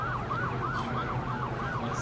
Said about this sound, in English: the sirens are coming from here